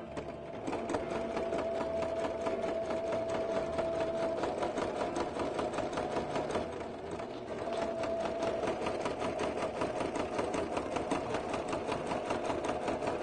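A sewing machine runs steadily, stitching a straight seam across a patchwork apron, its fast even motor rattle close and continuous with one brief pause midway.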